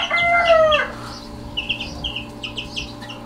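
Young Roundhead gamefowl chickens call loudly nearby: one bird gives a strained, crow-like squawk, followed by a run of short, high peeps and chirps from the flock.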